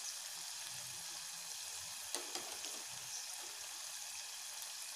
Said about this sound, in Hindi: अब हम इसमें कटी हुई हरी मिर्ची भी डाल देंगे और साथ ही हम सारे मसाले जैसे कि लाल मिर्च पाउडर,